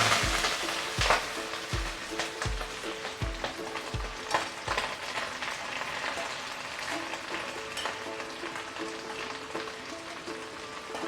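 Prawn shells stir-fried in very hot salted oil give a loud, dense sizzle, with sharp rhythmic knocks of a spatula against the wok in the first few seconds, then a steady crackle that slowly fades.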